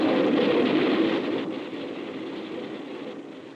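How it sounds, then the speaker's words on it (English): A low, continuous rumble of a train approaching a crossing rolls past, loudest at first and then easing to a steady drone. "As this train approaches, let's see how close it comes before we hear it."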